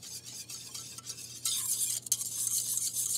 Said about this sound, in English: you want to whisk this constantly until it thickens up